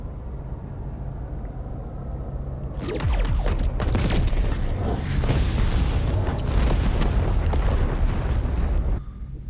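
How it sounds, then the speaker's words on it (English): A tricobalt device fired in the Star Trek Voyager video game sets off a loud, rumbling explosion that bursts in suddenly after a low hum and rolls on with crackling debris for several seconds. "Tricobalt device is ready. Fire!"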